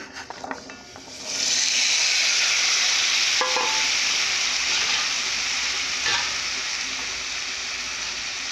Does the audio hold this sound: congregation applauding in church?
no